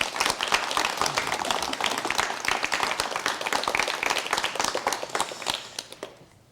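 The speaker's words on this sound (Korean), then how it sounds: "여러분 김웅수 화백을 박수로 맞이해 주시면 대단히 고맙겠습니다" A studio audience on a 1990 Korean KBS talk show applauds to welcome a painter. The dense, sustained clapping holds steady, then fades away at the end.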